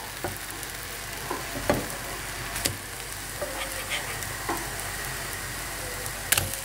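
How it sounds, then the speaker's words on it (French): A pancake sizzles softly in a pan, with a few light taps and scrapes as a wooden spatula flips it, no talking over the quiet frying. "On les retourne avec une spatule en bois."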